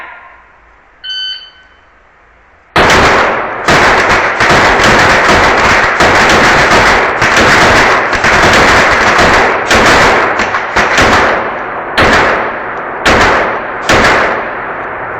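Rapid Glock pistol shots at an indoor shooting competition, a loud near string of sharp cracks ringing through the hall, fired in quick bursts with brief pauses after a quiet start.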